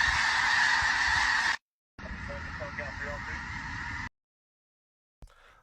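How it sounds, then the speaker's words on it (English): A huge flock of geese honks in a dense continuous clamor, loud and layered, in two bursts broken by silence, with voices briefly audible among the calls. "That's a lot of birds."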